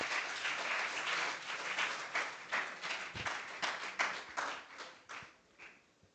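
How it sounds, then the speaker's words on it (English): Audience applause welcoming a lecturer to a DNA nanomaterials session, a dense crowd clapping steadily for several seconds and thinning out toward the end, with no speech. "Please give a huge round of applause."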